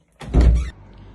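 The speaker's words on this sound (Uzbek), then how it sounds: "Men eshikni ochaman." A single solid thunk as a door swings open, close and fairly loud, followed by quiet room tone.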